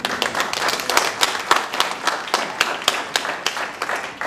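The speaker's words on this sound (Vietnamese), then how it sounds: "Xin quý vị cho anh Sinh một tràng pháo tay cổ võ tinh thần của anh Sinh." Theatre audience applauding a performer on stage, a loose round of distinct individual claps at an irregular rhythm, fairly near and clear, with no talking over it.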